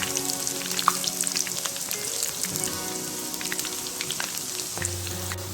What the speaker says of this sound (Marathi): बटाटा मी डायरेक्ट किसून घेतलेला आहे छान तळून घ्यायचे